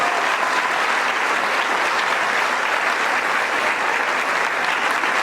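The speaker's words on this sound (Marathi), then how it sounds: "मोठ्याची टाळ्या वाजवा" Audience applause at the inaugural function of the Vidarbha Student Parliament in Nagpur, a dense, loud, continuous wash of clapping from a large crowd without break.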